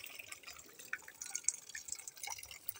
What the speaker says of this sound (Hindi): देखिए पानी आ रहा है,